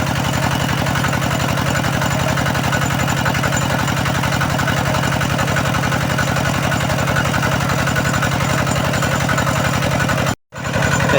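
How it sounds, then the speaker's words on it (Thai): A walk-behind tractor engine, belt-driving a water pump, chugs steadily at close range with a fast, even pulsing rhythm, running continuously with only a brief cutout near the end. "ใช้หัวรถไถนาเดินตามมันเพื่อนใช้สายพานเนาะ ใช้สายพาน มาปั่นตัว ท่อพญานาคตัวนี้เนาะดึงน้ำขึ้นไป"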